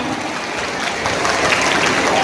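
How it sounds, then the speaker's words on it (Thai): An audience at a retirement ceremony for education staff claps together, a dense, continuous patter of many hands that swells slightly louder toward the end. "ขอเสียงปรบมือด้วยครับ"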